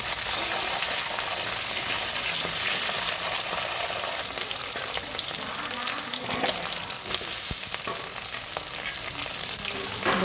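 Potato and radish fry in hot oil with a dense, loud, continuous crackling sizzle that fills the whole stretch, with occasional metallic clinks as the pieces are stirred; no speech.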